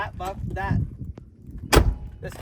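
A single heavy metal door of an old truck with worn hardware slams shut, loud and nearby, with muffled voices talking before it.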